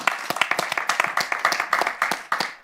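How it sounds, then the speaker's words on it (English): Audience applause at a live event, a burst of distinct, fairly dense hand claps ringing out steadily and close by for a few seconds, with no talking over it. "Round of applause."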